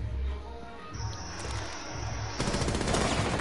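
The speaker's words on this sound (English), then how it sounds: "Someone's sniping." Gunfire in Rainbow Six Siege, with sniping in progress. Sharp repeated shots pop in a quick rhythm over game noise and a high steady tone, and a louder, denser burst comes in near the end.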